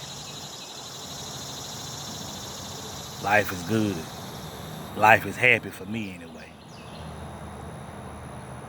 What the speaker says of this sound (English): I heard them birds chirping and bugs.